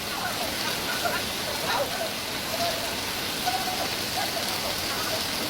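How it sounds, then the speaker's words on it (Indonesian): Rain falls steadily over an outdoor protest, an even, unbroken hiss of drops that fills the whole stretch with faint patter and no clear pauses. "Tuh lagi hujan masuk"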